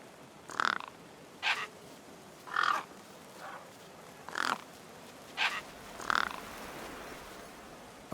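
Crows caw over a feast in the game Beyond a Steel Sky, about seven harsh, evenly spaced calls ringing out one after another, fairly close and loud against a quiet backdrop.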